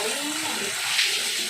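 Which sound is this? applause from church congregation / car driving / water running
water running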